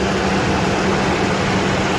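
A BMW 740i engine bay with the viscous cooling fan engaged, giving a steady, loud broadband roar with a low hum underneath, continuous and unchanging throughout, with no talking.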